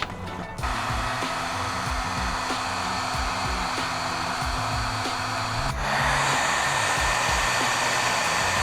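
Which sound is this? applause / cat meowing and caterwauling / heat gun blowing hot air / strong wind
heat gun blowing hot air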